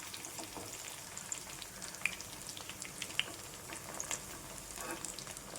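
Pieces of chicken 65 fry in hot oil with a faint, even crackling sizzle dotted by small sharp spits and pops, heard close but quiet with no one speaking.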